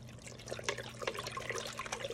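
Water pours and trickles into a saltwater reef aquarium, a soft continuous splashing with brief louder gurgles, close by over a steady low hum.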